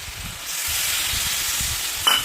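Cauliflower and potato curry sizzles and fries steadily in a pan as water is added, a loud continuous hiss with a brief sharper burst near the end.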